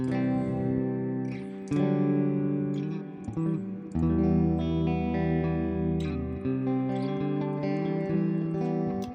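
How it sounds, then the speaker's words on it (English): A Joyo Atmosphere reverb pedal in rewind mode turns sustained guitar chords into long, washy reverb tails with swelling, reversed-sounding echoes, loud and alone with no voices. "This next one is rewind, and with rewind, your modulation is going to control the amount that is rewound in your reverb."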